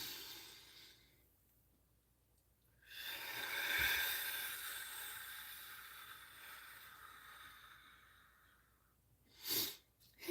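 A person sneezes once or twice, a breathy burst building to a sharp release, followed by a short second puff, faint and close against a quiet room.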